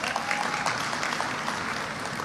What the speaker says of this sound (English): do give them another round of applause